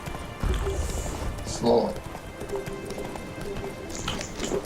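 Horse hooves clop at a slow pace while riding in The Witcher 3 video game, soft and fairly close, with a brief louder thud and someone speaking a single word over the game sound.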